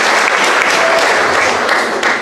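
A congregation at a Mass celebrated by a bishop applauds a priest, steady, loud and even clapping from many hands filling a church.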